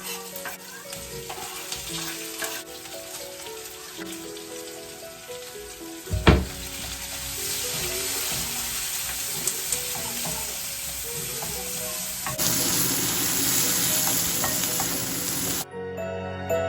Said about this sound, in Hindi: एक कढ़ाई में मैंने हींग जीरा ऐड किया है।